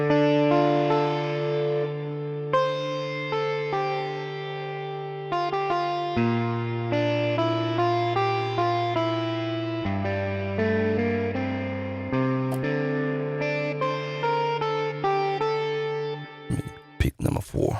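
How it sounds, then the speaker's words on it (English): A guitar plays sustained notes and chords through an analog reverb pedal, each note ringing out and blending into a lush wash, with a slightly gritty, distorted edge. "Real good reverb."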